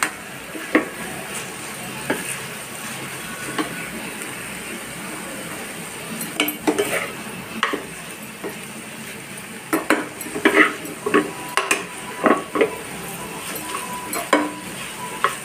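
A spoon stirs turmeric and chili powder into a bitter gourd curry in a pan, making soft sizzling under irregular scraping and clinking strokes that grow busier toward the end, with no voices.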